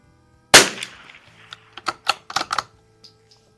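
An Anschutz Biathlon 1827 .22 rifle fires one sharp, close shot, followed by a quick series of lighter metallic clicks and clacks from the action.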